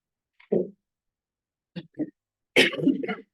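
A few short, close throat-clearing coughs in separate bursts, ending in a longer rough cough, with silence between them.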